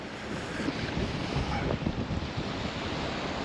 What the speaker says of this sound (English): it's windy and it's a cold wind